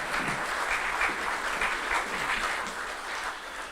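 Steady applause from an audience at a traditional Irish Comhaltas music concert in Milltown, Rathconrath, a continuous even wash of clapping heard from some distance, fairly quiet and unbroken throughout.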